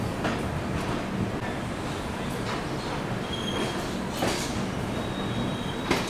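The Vikramshila Express rolls into Bhagalpur Junction at platform 4, heard from inside a 3rd AC coach as a steady loud rumble of wheels on rails, with brief squeals and metallic clanks as it slows.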